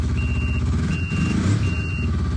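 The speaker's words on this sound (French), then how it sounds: "on a une sonnette d'alarme pour avertir qu'on recule, comme un troc" A Yamaha Venture 500 snowmobile's reversing alarm beeps three times in a steady rhythm over a low idling engine rumble.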